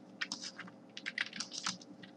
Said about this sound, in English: So I'm typing an alert inside